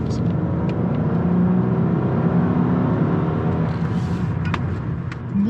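Used 8th-generation Honda Accord, about 100,000 km on it, driving through a wide turn, with a steady, close, loud cabin rumble of road and engine noise and a few faint knocks from the rear sway bar near the end.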